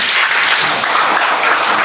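An indoor audience applauds steadily to welcome a speaker at a professors' public declaration event, a dense, even clatter of many hands with no talking.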